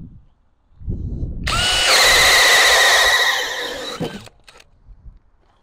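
A DeWalt cordless drill set to speed 2 and fitted with a Powerstack battery spins up and drills for about two and a half seconds with a loud, high whine, then winds down, with no talking.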